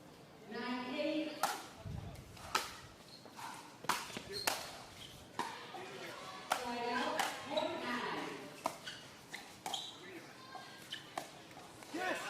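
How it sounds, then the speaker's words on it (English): Coaches clapping at a professional pickleball match, scattered sharp claps and paddle pops ringing out amid crowd noise while a commentator talks over them. "You see the coaches over there clapping it up."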